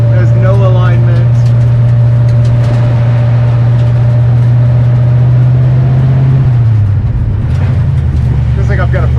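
A 1965 Ford Mustang with a 289 V8 on its first drive after restoration from a parts car, a loud, steady low engine drone that rises in pitch near the end, with a person talking over it.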